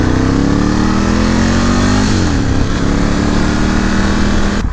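A 2018 Ducati Scrambler 1100 Special's V-twin rumbles loud and close while riding, a steady throbbing drone whose pitch climbs, dips sharply as the throttle eases around the midpoint, then holds steady amid wind rush.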